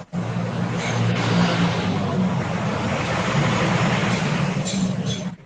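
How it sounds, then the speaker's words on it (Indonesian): Car engine running nearby, a steady low rumbling drone that holds constant for several seconds, with no voices over it. "suara mobil siapa ini?"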